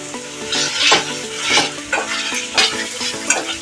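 Pav bhaji masala being stirred and fried in a pan, close and steady sizzling with repeated scraping strokes of a spoon every half second or so, no voices.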